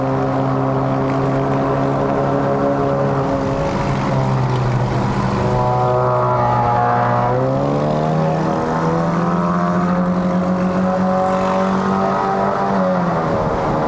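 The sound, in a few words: tuned Honda City 1.5L CVT engine with modified exhaust shifting gears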